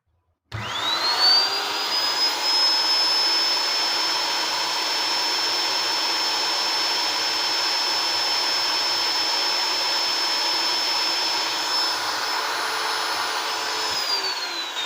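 A cheap DCA die grinder (bottle-style straight grinder) spins up and runs at no load with no workpiece, giving a steady, loud, high-pitched whine that holds for about thirteen seconds before it begins to wind down at the end.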